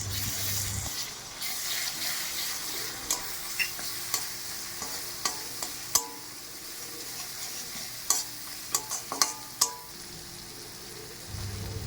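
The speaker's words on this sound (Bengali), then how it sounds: "এবার আমি আদা রসুন বাটা দিয়ে দেবো। শিলে বেটে রাখা জিরে ধনে এবার দিয়ে দেবো।" Ginger-garlic paste and stone-ground cumin-coriander paste frying in a pan for a spicy tilapia curry, a steady sizzle broken by repeated sharp clinks and scrapes of stirring, close and moderately loud.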